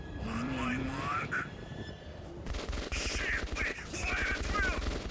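Gunfire from the video game Metro 2033 Redux, dense bursts of fusillade and machine-gun fire that grow louder in the second half, with tonal game sounds layered on top.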